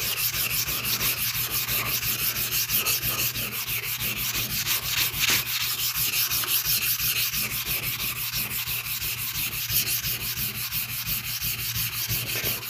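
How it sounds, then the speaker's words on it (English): Steady, close abrasive rubbing of a sharpening stone being flattened by sanding, a continuous gritty scrape with a quick back-and-forth rhythm and no talking. "some sanding on it for a couple minutes."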